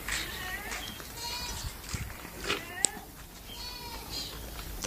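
Goats on a Pakistani goat farm bleat several times at a moderate distance over a low farmyard background, with faint voices now and then.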